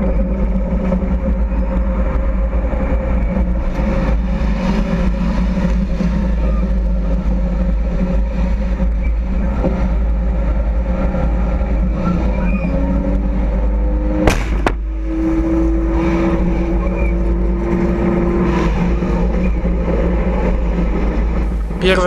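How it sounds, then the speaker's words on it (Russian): Tanks drive into battle in Jobar, Syria, their heavy engines a loud, continuous low rumble, with one sharp crack partway through and faint, muffled voices under the din. "Танки пошли в бой."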